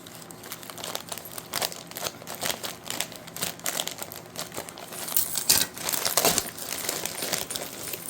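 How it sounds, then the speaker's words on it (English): Packing tape is cut on an eBay shipping package, giving a run of crinkling, scratchy handling noises with sharper rustles and a few quick cutting snaps near the end, close and moderately loud. "And just going to cut the tape."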